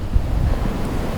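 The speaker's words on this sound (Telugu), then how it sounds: "ఈదురుగాలు చాలా బీభత్సంగా వీస్తూ ఉన్నాయి" Strong gusty wind roars during a heavy hailstorm rain in Hyderabad, a continuous dense rumble with buffeting against the microphone and no voices.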